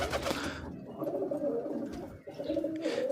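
Pigeons in a pigeon house, mostly local desi birds with some Giribaz, coo softly and repeatedly nearby in a low, steady murmur, with no one speaking.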